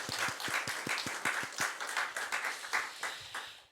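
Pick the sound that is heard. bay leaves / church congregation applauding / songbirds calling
church congregation applauding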